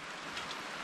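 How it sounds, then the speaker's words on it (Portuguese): Steady hiss of rain falling on a surface, with water leaking into a house, a dense continuous wash of drops without pauses. "olha aqui como tá chovendo aqui, tá infiltrando bastante água aqui"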